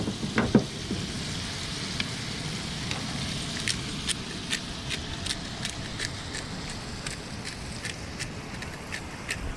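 Breakfast frying on a gas camping stove on a beach, a steady crackling sizzle with scattered sharp pops and spits throughout, fairly close and continuous.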